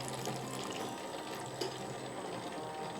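Cold water pours into a Famag IM5S spiral dough mixer bowl, a continuous broadband splashing and rushing that stays even and close throughout with no speech.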